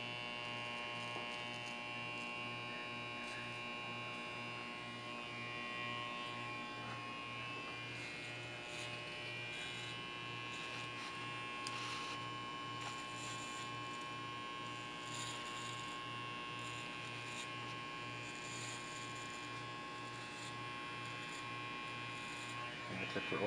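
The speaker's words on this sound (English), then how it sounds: "And the clipper over it, using it this way." Electric hair clipper buzzing steadily throughout a brush-cut fade haircut, a close, continuous hum that stays even with faint voice and background sound beneath it.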